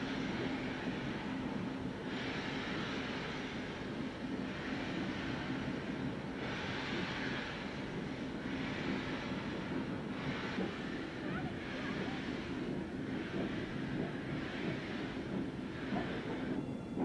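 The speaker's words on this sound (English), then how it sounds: "The sound of trucks and wagons which were simply chained together rather than precisely coupled." Steam railway trucks and wagons, loosely chained together rather than coupled, rolling along with a steady rumbling roar and regular periodic clanks repeating every couple of seconds, continuous and fairly loud.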